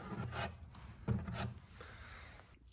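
Putty knife spreading tinted Bondo body filler into a hole in an old wooden desk, soft scraping rubs in a few short strokes, close and quiet.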